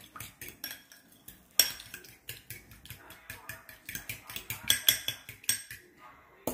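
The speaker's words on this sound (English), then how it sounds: "So I'm going to mix this up with the sugar, the vanilla, cinnamon, nutmeg" Spoon clinking and scraping in a bowl while mixing sugar, vanilla, cinnamon and nutmeg, a brisk irregular series of close metallic taps with a couple of sharper knocks.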